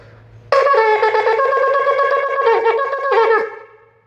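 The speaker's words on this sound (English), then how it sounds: "The next sound is called a trua, and that's 9 little itty-bitty sounds like this." A shofar sounds the teruah, a run of nine short staccato blasts in quick succession, bright and brassy with strong harmonics, loud and close with no voices.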